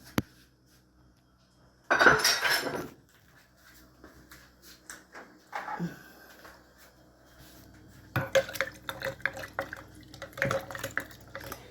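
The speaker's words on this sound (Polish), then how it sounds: "Wlewam do tego soku, Mieszamy." Dandelion and cleavers juice is poured into spirit and stirred in a jar, giving a burst of liquid pouring followed by intermittent clinks, splashes and scraping of stirring, close and fairly quiet.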